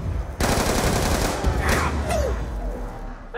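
Rapid automatic fire from an M-Tar rifle in Call of Duty Black Ops 2 Zombies: a loud, close burst of rattling shots that begins abruptly and runs for about two seconds. Faint voices and game sounds can be heard underneath.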